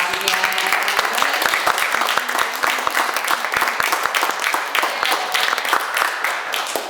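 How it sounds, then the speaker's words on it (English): A conference audience at an opening ceremony at Boğaziçi University gives a round of applause, with dense, continuous clapping that is loud and sustained throughout. "So let's give Evelin a huge round of applause again."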